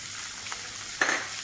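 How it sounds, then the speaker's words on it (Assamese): Mustard seeds splutter in hot oil while fish with raw mango curry is being cooked, making a faint, steady sizzle broken by a single small pop. "ইয়াতে এয়া সৰিয়হ কেইটামান ফুটাই দিম।"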